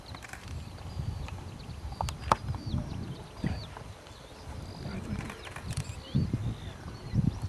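Horse hooves clip-clopping at a photo camp in the Tori area of Estonia, irregular soft thuds against a busy outdoor background with occasional birdsong and faint voices.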